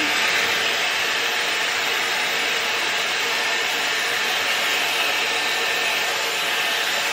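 A Dyson hair dryer blows a steady, loud stream of air on its cool setting while styling hair, an unbroken broadband whoosh that holds even from start to finish with no voices over it.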